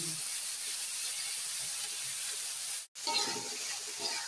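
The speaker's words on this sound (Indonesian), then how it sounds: "jadi ini kita goreng pemirsa dengan bumbu dan tadi minyak gorengnya" Bean sprouts with spices sizzle and hiss steadily as they stir-fry in hot oil, a bright continuous frying sound with a brief dropout partway through, close up.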